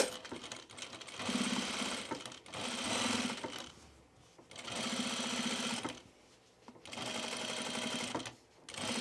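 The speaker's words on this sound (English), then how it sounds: "I really want another row of stitching." A sewing machine stitches a row on a button-down shirt in several steady, rapid running bursts of about two seconds each, with short pauses between them as the fabric is repositioned.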